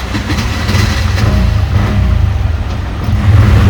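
A tuk-tuk engine drones and revs as the small three-wheeler pulls away, a loud, rough low rumble that builds steadily and stays close throughout.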